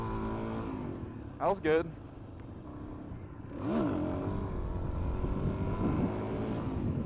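A motorcycle revving to lift into a wheelie: a low engine rumble runs throughout, with short throttle bursts and a swelling rev partway through, partly under a rider's voice speaking nearby.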